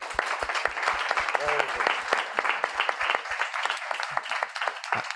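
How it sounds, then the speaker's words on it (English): A conference audience claps for the speakers, with sparse, distinct individual claps rather than a dense roar, and a voice talking over them. "that's worth a round of applause"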